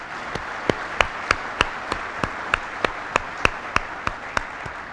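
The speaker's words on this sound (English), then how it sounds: "How about a round of applause for our families?" Spaced, sharp claps ring out at a steady rhythm, about fifteen distinct hand strikes over a low crowd murmur, as a graduation audience applauds the families of newly graduating airmen.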